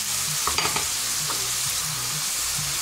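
Pieces of veal tendron are added to a pan of mushrooms and hiss into a steady sizzle, with a few clattering stirs and scrapes near the start and soft bubbling after.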